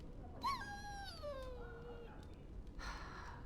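A dog whimpering in Dragon Age: Origins, one high, drawn-out whine that slides downward, quiet, with a soft breathy sound afterward.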